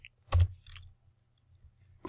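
Keys on a TI-Nspire CX CAS graphing calculator are pressed in a couple of sharp, close plastic clicks separated by silence.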